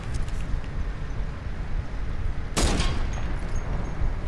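A single sharp sniper shot cracks out in a battle-lab match of a shooter video game, standing out against a steady loud background rumble and trailing off in a brief echo.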